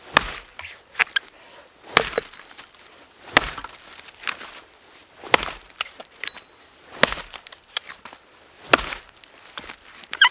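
A Cold Steel Hudson Bay Tomahawk bites into wood in a series of about eight sharp, close chops spaced roughly a second or two apart, with faint rustling between strikes.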